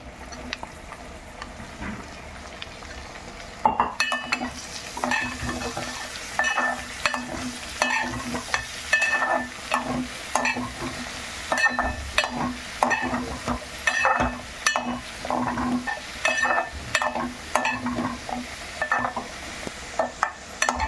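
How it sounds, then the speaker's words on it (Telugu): Onions frying in a pan with turmeric and salt, a steady sizzle broken by repeated scraping strokes of a spoon stirring, close and moderately loud, no talking. "కొంచెం వేపుకోవాలి వేగిపోయినాయి ఇలా వేపుకుంటేనే నీరు కోసం రాదు ఉల్లిపాయలు వేస్తున్నా"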